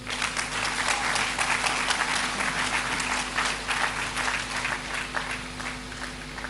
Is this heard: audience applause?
yes